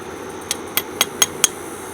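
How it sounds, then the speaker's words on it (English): A bolt is turned with a wrench using two jammed nuts to drive it into a wooden table leg, producing five sharp metallic clinks spaced about a quarter second apart over a faint background hum. "You turn the top nut and it will butt against the bottom nut and keep screwing the bolt in."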